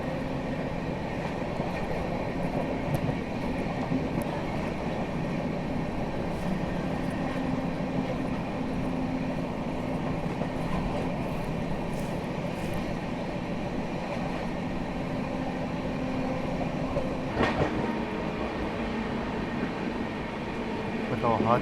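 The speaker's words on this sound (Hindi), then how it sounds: "ट्रेन अब मैक्स इसी रफ्तार में चल रही है अभी" The Howrah Rajdhani Express runs at reduced speed through thick fog, heard from on board as a steady rolling rumble and drone with a sharp clank near the end, while someone talks over it.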